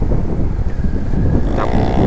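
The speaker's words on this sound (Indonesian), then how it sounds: "kenceng banget suara knalpot" Loud, rumbling engine noise with heavy wind buffeting, like riding close behind a motorcycle exhaust at speed on a Jakarta road.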